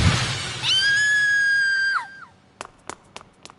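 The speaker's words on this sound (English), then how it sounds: "That was a shrill scream." A girl in the video game Death Mark II lets out a long, shrill scream that holds steady for over a second and then breaks off, followed by a few sharp, sparse knocks.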